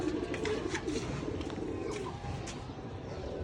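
Several pigeons cooing in a steady, continuous murmur close by as they are let out of their cages, with faint chirps overhead and outdoor background noise.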